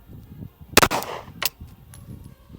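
A Derya DY9 Glock-clone pistol fires one sharp, loud shot at close range, and a fainter second report follows about half a second later.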